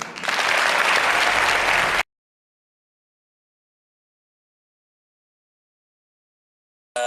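Audience applause from a live talk event bursts out loud and dense for about two seconds, then falls to silence before another brief burst of clapping at the end.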